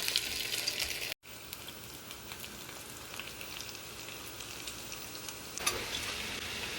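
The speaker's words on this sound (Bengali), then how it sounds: "এখন শুধু পেঁয়াজ দিয়ে ফ্রাই করে ফেলবো" Greens marinated and then fried in oil with onion sizzle and crackle steadily up close in a pan, with a short drop-out early on and a louder surge of hissing toward the end.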